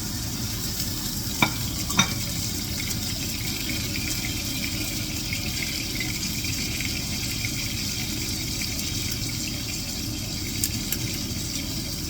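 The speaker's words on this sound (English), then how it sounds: "first things first, let's sear this fillet" A beef fillet sears in hot oil in a pan, giving a steady, loud sizzle throughout with a couple of brief clinks near the start.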